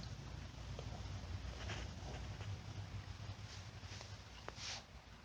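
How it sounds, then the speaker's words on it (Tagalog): Blizzard wind blows hard and constantly outdoors in a snowstorm, a dense low rumble with brief gusty flares and a few faint knocks, no voices. "Narinig niyo yung ihip ng hangin?"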